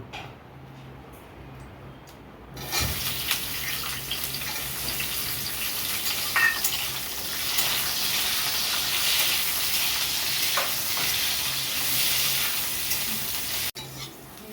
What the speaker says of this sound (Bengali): এবার ডাঁটাটা ভেজে নেব।